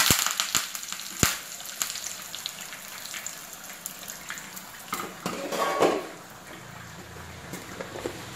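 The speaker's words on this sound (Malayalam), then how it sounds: "കടുക് പൊട്ടിയിട്ടുണ്ട്" Mustard seeds with chillies and curry leaves splutter in hot oil for Kerala theeyal, a dense steady crackle of close sizzling broken by sharp individual pops, with no voices.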